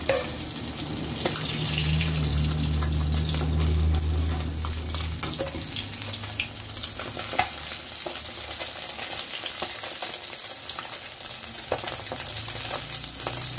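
Pieces of bata fish fry in a pan with a steady, crackling sizzle that lasts throughout, strongest in the first few seconds, with light clinks as the fish is turned.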